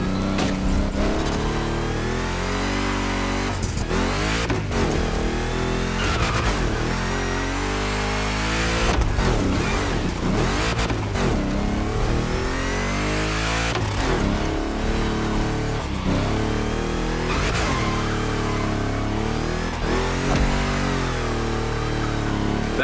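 A big-block car engine revs hard during a race in The Crew Motorfest, loud and close, surging and dropping repeatedly with gear shifts and sharp throttle blips, continuous with no talking.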